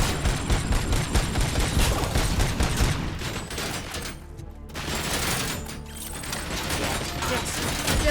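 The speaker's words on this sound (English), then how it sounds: "have they been firing out with LMGs?" Dense, continuous light machine gun fire in RoboCop: Rogue City, loud rapid bursts with mechanical clatter that briefly drop away before resuming.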